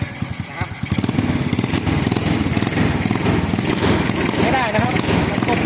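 A Wave 125 motorcycle engine fitted with an aftermarket ignition box sputters and rattles continuously as it fails to start, close by, with a person talking over it.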